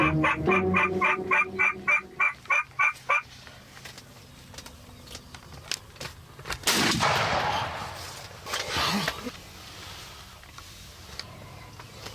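A turkey-hunting gunshot at a wetlands outfitter: one sharp, loud blast that rings out briefly in open air, preceded by rapid rhythmic calling-like bursts and followed by quieter rustling outdoors.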